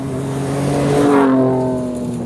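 Loud V6 exhaust of a 2023 Ford Ranger Raptor with a straight-through style exhaust, revving up and falling back once in a close, rising growl.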